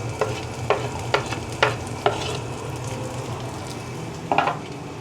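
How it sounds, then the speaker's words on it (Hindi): Garlic lightly sautéed in a pan without oil: a series of sharp scraping stirs, about seven in all, spaced unevenly over a low steady background hiss and hum. "हल्का सा सौते करना है।"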